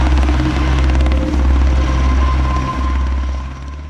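A rescue helicopter on a mountain search operation drones loudly and close by, its rotor and engine forming a steady, throbbing roar that holds throughout with only slight dips, no voices present.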